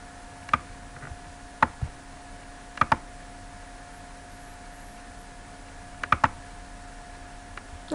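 Sparse mouse clicks on a computer while previewing a Survey Monkey survey, single and paired sharp ticks spaced a few seconds apart over a steady low electrical hum, close and fairly quiet.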